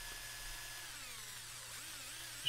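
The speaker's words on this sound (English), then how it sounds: "So we're taking our drill." A power drill whines steadily as it drills out the posts on a 1968 Custom Camaro Hot Wheels Redline toy car, with the pitch wavering under load. The sound is close and continuous, and no one speaks.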